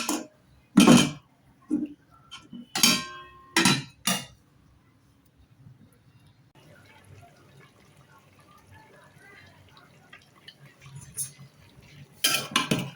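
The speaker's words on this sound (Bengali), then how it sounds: "লাউটা একটু নেড়ে চেড়ে দিচ্ছি।" Bottle gourd cooking with fish in a pot is stirred with a metal utensil, giving several sharp, close clanks and scrapes against the pot, separated by quiet stretches of soft simmering.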